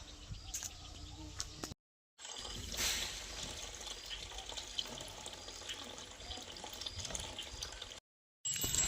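Water from a machine-driven pump fills a trough for cattle, a steady trickling, pouring flow running close by with faint birds in the background, broken by two short silent gaps.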